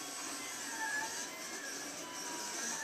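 Davinci 3D printer running a print job, a steady mechanical whir with faint motor tones, moderately quiet and continuous with no voices.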